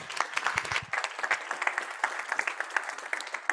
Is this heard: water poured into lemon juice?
no